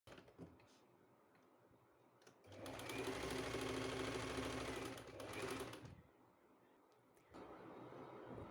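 A sewing machine stitches a sleeve in one loud steady run of rapid stitching lasting about three seconds, with quieter handling sounds before it and another stretch of machine noise near the end.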